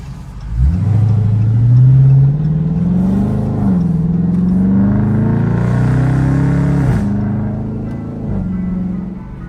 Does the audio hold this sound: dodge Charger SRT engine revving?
yes